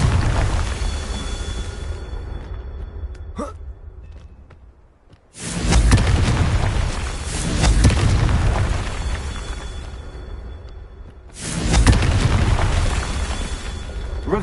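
Confringo explosion spell cast in the video game Hogwarts Legacy: a loud, near blast bursts in around the middle and a second booming burst follows later, each trailing off over a steady rumbling game background.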